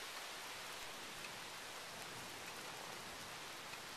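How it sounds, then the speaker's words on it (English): Rain starts falling during a thunderstorm as a faint, steady hiss of drops on surfaces, even and unbroken throughout with no voices or thunder standing out. "now it's starting to rain"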